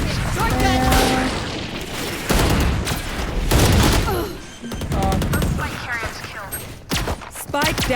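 Shotgun and other gunfire blasts repeatedly in a tactical shooter game round, loud bursts mixed with music-like tones and effects, while players talk excitedly over the action.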